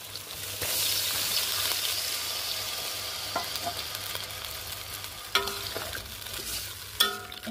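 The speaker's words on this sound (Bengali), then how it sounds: "এখন মশলার সাথে এই আলুগুলো সুন্দর করে আমি কষিয়ে নেব" Potatoes sautéed in a pan with ginger paste and spices give a steady, close sizzle, broken near the end by a few sharp scrapes and knocks of stirring.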